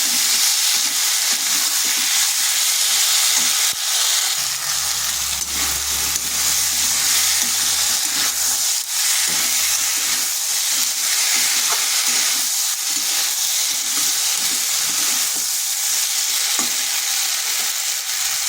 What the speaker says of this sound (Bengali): এরপর ভালোভাবে এই মশলার সাথে কষিয়ে নিতে হবে।